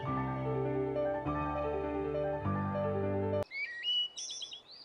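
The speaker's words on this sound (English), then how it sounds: "Birds chirping." Sustained musical chords play for a few seconds, then stop and give way to bright, high bird chirps and tweets trilling briefly.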